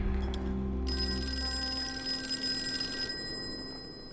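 A telephone in the Call of Cthulhu video game rings with a bright, repeated electronic bell tone that stops partway through, over a low background drone.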